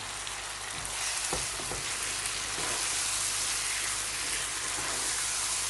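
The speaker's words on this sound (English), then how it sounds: "Just going to put them in and then just continue to stir." Chopped tomatoes sizzle in a pan of okra curry, giving a steady, close crackling hiss with a few scraping knocks as the mixture is stirred.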